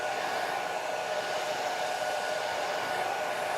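A hair dryer blows over a wet watercolor painting of buildings, a steady, even fan-and-air roar held at a constant level throughout, close by and with no voices.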